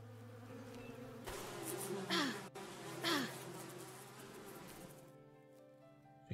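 Bees buzzing in the Western survival game Above Snakes, a droning insect hum that swells and wavers in pitch as the bees fly close, then drops away to quiet.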